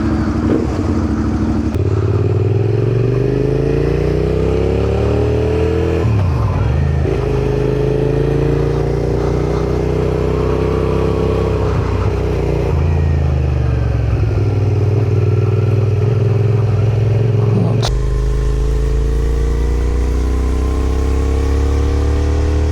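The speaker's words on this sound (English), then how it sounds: "they're a beautiful sounding bike. The V-twin, or the L-twin, as you'll hear it referred to." Suzuki SV650 V-twin motorcycle engine on a cool, crisp morning: a loud, close, continuous drone that rises and falls through gear changes, dips briefly, then settles into a deep steady rumble.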